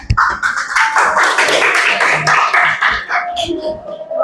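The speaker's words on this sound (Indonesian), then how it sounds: "Terima kasih, tepuk tangannya." An audience of teachers claps for a group presentation in a classroom, a dense burst of applause mixed with overlapping voices that fades after a few seconds.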